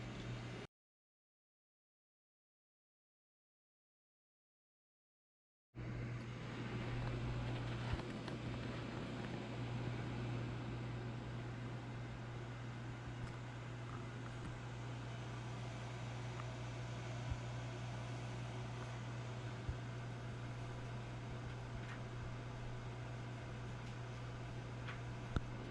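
An air fryer cooking a hamburger: a steady appliance hum with a strong low tone and broad fan-like whoosh, starting abruptly after a few seconds of silence and running constantly, close by, with faint ticks.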